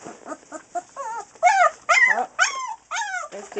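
Three-week-old Newfoundland puppies whimper and yip in quick, high, wavering cries while they play, several short whines close by in an irregular run, with no voices.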